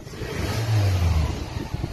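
A Mitsubishi Galant engine, just back from a top overhaul for a smoking exhaust, revving briefly in a short rising and falling burst heard close by.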